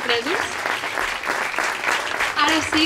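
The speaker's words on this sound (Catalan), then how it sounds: "Un fort aplaudiment per la seva interpretació" Warm audience applause at a commemorative civic event in Sant Vicenç dels Horts, continuous and fairly loud, with a few voices and cheers poking through the clapping.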